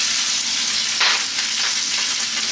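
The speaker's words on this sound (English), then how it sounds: "So I got the pan rocking. I got the shrimp here. Nothing but olive oil. They're gonna go in there." Shrimp frying in olive oil in a rocking pan: a loud, steady sizzle with a brief sharp spatter burst partway through, close by and with no talking.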